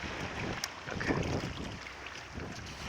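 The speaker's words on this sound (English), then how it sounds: "The wind blew." Wind blowing across an outdoor microphone, a steady broadband rush with gusty swells and occasional buffeting thumps, fairly loud throughout with no talking.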